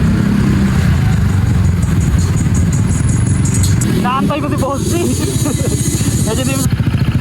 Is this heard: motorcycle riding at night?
yes